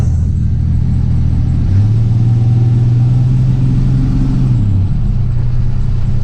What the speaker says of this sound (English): I hope you can hear some of that exhaust noise.